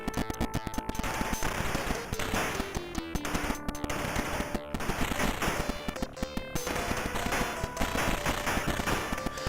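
Gunfire in a PC-88 action video game: rapid, continuous volleys of harsh chiptune-style shots, loud and relentless over beeping game tones.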